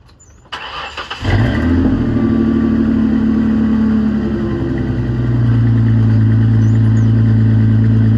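A New Edge Mustang engine catches with a click and roars into a loud, deep exhaust rumble, holding a steady idle and then rising slightly in pitch; not a cold start.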